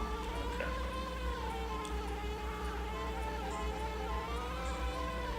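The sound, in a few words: bees buzzing in Banjo-Kazooie video game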